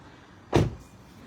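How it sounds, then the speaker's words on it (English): A single muffled thump, likely a car door shutting or someone settling into the seat, lands inside a home workshop garage, fairly close and brief against quiet room tone. "Let me get in my car."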